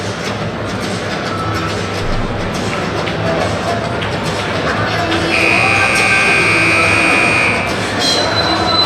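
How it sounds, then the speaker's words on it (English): A timeout buzzer sounds at a varsity boys high school basketball game in a gym, a sustained electronic tone over the steady murmur of the crowd. "And there's the buzzer."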